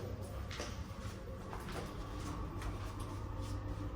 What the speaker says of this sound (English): Door is closing.